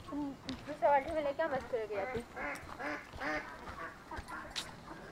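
Ducklings quacking in short repeated bursts, close by, with a person talking over them.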